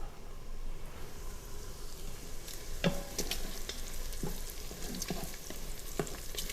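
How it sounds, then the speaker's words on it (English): Garlic cooks with bacon and onions in a pan, making a faint, continuous sizzle broken by sharp scraping clicks from stirring. "we're going to go ahead and add our garlic, and we're going to let that cook for just another minute."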